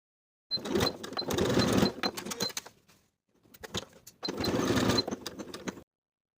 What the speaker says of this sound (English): Sew the side edges with a 1/2 inch seam allowance